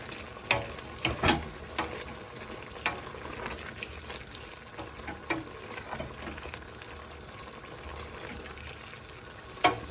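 Chicken and mushroom pie filling with black pepper stirred and frying in a pan as its water cooks off, a steady close sizzle broken by scraping stirs and a few louder clinks.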